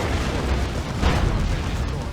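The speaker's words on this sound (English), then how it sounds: "Bit of a questionable grenade there, Kickin." Grenade blast in the real-time strategy game Warhammer 40k Dawn of War 2 Retribution, a dense, noisy rumble that swells around the middle of a continuous battle din, with a commentator talking over it.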